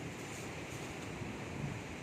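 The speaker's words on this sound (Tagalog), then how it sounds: "lalaki ng alon oh. Grabe lakas no?" Strong, heavy waves surge at a flooded lagoon with brown water, a steady loud wash of surf and wind roar that runs unbroken and close for the whole stretch.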